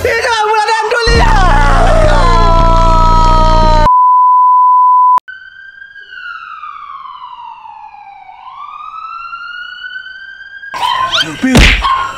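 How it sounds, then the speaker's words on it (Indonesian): Ghost ambulance siren in an Upin & Ipin-style animated scene, a wailing siren with rising and falling tones heard alone after a burst of music and a long steady beep. "itu dia ambulan hantunya"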